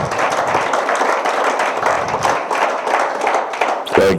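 Steady clapping from a crowd, fairly close and dense, continuing evenly for a few seconds before a brief sharper noise at the end.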